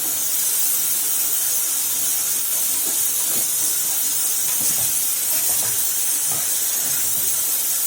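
Tomato chutney with salt sizzles in a pan on the stove, producing a constant bright hiss with faint crackles and pops scattered throughout, fairly loud, with no talking.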